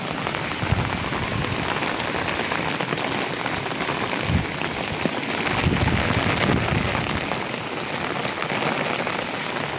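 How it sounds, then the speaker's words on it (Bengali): Steady heavy rain pours outdoors for the whole stretch, a dense continuous hiss of drops on surfaces with a few louder gusts and low rumbles, no voices. "দেখেন কি সুন্দর বৃষ্টি নামতেছে"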